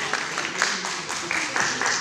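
An audience applauds at a live event with a DJ, a steady wash of clapping at moderate volume that rises and falls slightly throughout, with tonal sound mixed underneath.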